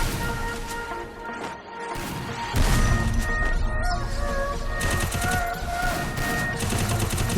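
UMP submachine gun firing in a mobile shooter game, a dense rapid burst that grows louder partway through and keeps going over a busy mix of other game sounds.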